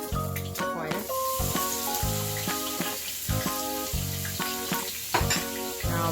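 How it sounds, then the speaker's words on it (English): An egg fries in hot oil as a spatula flips grease over it, a steady crackling sizzle with scraping strokes, heard under a loud backdrop of melodic music. "Flip the oil, the grease on top of the egg, so you kind of cook the egg with the oil."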